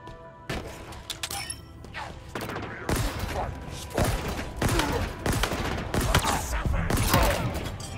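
Gunfire in a Halo Infinite battle, a steady barrage of loud shots with crashes and impacts, and faint voices from players partly buried under it.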